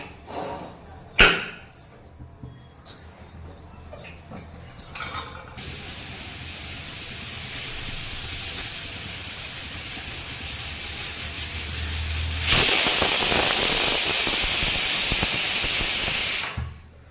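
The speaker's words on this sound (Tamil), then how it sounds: "ரெண்டு விசில் வந்துருச்சு நம்ம அடுப்பு ஆஃப் பண்ணிட்டோம்" Pressure cooker on a stove cooking ragi millet kali, letting out a loud, steady hiss of escaping steam that starts strong near the midpoint and runs for several seconds, with scattered clatter earlier and no talking.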